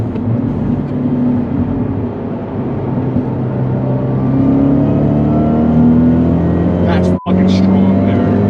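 A Fiat 124 Spider Abarth with a big turbo accelerates steadily from inside the cabin, its engine drone climbing in pitch through a gear, with a brief sharp click partway through.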